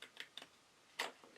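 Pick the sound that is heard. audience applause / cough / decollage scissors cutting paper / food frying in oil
decollage scissors cutting paper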